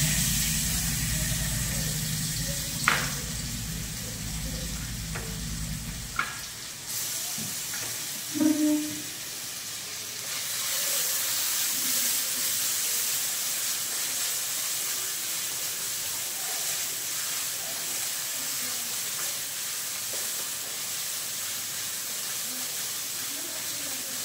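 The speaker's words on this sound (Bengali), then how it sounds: "তেল আমাদের গরম হয়ে গিয়েছে, এবার দিয়ে দেবো কেটে নেওয়া আদা রসুন।" Chopped ginger and garlic drop into hot oil for a mutton nehari, with a low rumble and a few bumps at first, then a soft, steady hiss of sizzling that carries on evenly.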